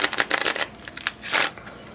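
A deck of playing cards being shuffled by hand: quick flurries of crisp riffling clicks, then a longer brushing riffle, close and fairly loud with no talking.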